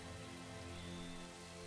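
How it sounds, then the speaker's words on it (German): Rain falls steadily in Assassin's Creed III, a dense, even hiss covering the whole moment with no voices. "Es beginnt zu regnen."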